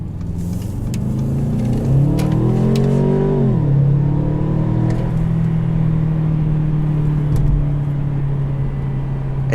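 A 2018 Mercedes-Benz CLA250 with a small four-cylinder engine revs up, its pitch climbing, dropping back, and settling into a steady, deep, throaty drone, heard close up and loud with no voices.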